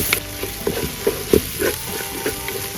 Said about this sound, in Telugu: ఇప్పుడు అల్లం వెల్లుల్లి పేస్ట్ వేసి పచ్చివాసన పోయేదాకా బాగా కలుపుకోండి.